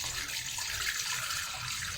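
Tap water runs steadily into a pan or bowl holding milkfish (bangus) for cooking, a close, even hiss of flowing water with no pauses.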